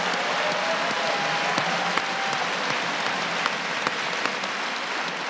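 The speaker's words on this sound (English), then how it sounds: "How about a round of applause for Judge Bob Vance?" Live theatre audience applauding a judge during a legal podcast show in Boston, sustained thick clapping with a few sharper nearby claps standing out, steady and loud throughout.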